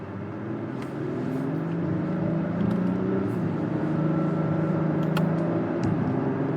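A 2023 Acura TLX Type S engine pulls through upshifts in sequential manual mode, a steady low in-cabin drone that rises in pitch and drops back with each shift change.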